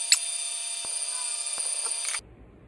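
An electric meat grinder processing seasoned pork strips gives a steady high whine with faint thuds mixed in, running for about two seconds before cutting off abruptly.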